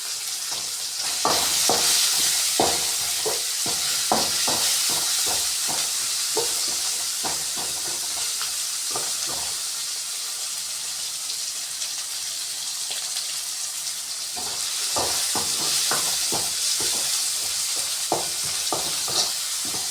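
Chopped chow chow vegetables sautéing in a pan, a steady bright sizzle with repeated scraping stirs of a spoon, close and continuous with no talk.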